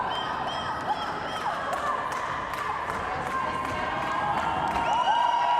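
A roller derby crowd cheers during a bout in Prague: a sustained wash of shouting and whistling, scattered claps and thumps, with a few voices rising and falling over the din.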